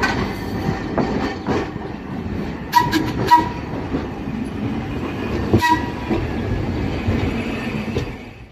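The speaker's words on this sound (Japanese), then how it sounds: "列車来た、列車来た。" A train rumbles steadily into the station, with wheel and rail noise throughout and sharp metallic clanks and squeals cutting in at intervals.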